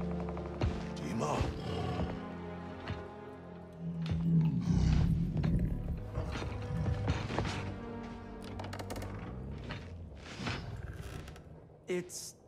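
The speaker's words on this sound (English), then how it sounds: "So Craven has a pet tiger." A pet tiger roars in the video game Marvel's Spider-Man 2: a loud, rough growl swells near the middle, set amid busy game music and mechanical clanks and ratcheting.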